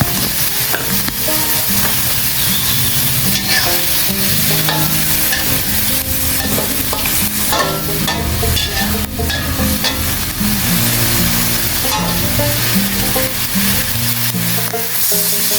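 Holy basil and red ant eggs stir-fried in a wok, a steady loud sizzle with continuous scraping and tossing strokes throughout, no voices.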